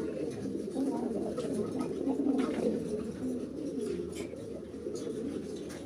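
Pigeons in a pigeon loft coo steadily throughout, a dense overlapping murmur of low cooing calls close by, with no talk.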